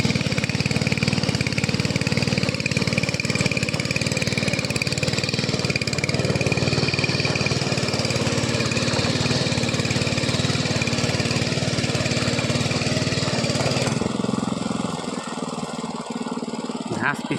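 A mini power tiller ploughs a field with a loud, continuous rattling engine drone close by, its pitch holding steady before the noise drops sharply near the end.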